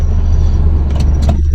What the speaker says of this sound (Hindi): गाड़ी का एसी हमने ऑन कर लिया है।